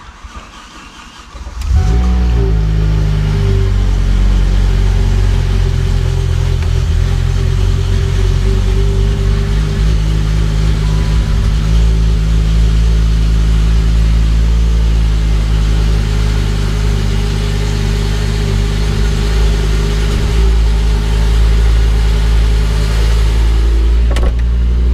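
A BMW E39 M5 fitted with a swapped S85 V10 engine cranks and fires up, then settles into a loud, steady, rumbling idle that holds close and even for the rest of the clip.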